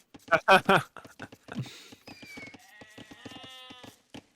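Sheep in a strategy game's winter match bleat in a couple of quick nasal bursts, followed by a higher wavering cry, with a voice talking over them.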